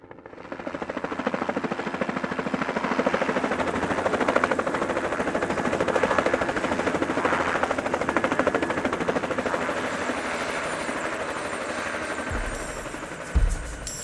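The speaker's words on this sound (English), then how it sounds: "an helicopter could land and fly us out" A helicopter lands in snowy mountain country in Nepal to fly trekkers out. Its rotor throbs loud and steady and close for most of the stretch, easing slightly near the end, with a couple of brief thumps at the finish.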